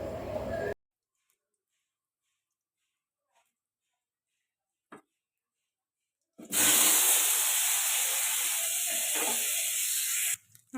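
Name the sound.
potatoes frying in oil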